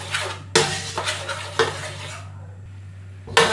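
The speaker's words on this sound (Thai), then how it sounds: "ตั้งกระทะใส่หัวกะทิลงไปนะคะเ คี่ยวไปให้แตกมันค่ะ" Metal utensil scraping and clanking in a wok, a handful of sharp knocks and scrapes over a low hiss of coconut cream simmering gently.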